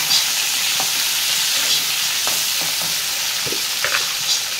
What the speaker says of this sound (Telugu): కొంచెం ఉప్పు వేసి ఫ్రై చేయాలి